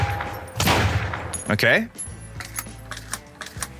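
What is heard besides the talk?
shotgun firing and reloading in video game sandbox mode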